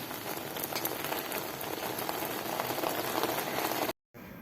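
Gooseberries simmering in boiling jaggery syrup, a steady dense bubbling and crackling heard close up, running continuously before a brief cut to silence.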